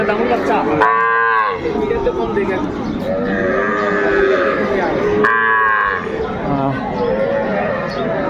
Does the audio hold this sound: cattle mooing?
yes